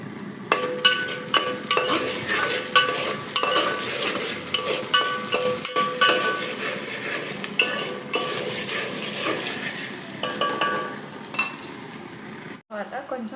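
Green chillies and ginger garlic paste fry in a pan for tomato rice, a steady sizzle under repeated scraping and clinking of a spoon stirring against the metal, close and busy.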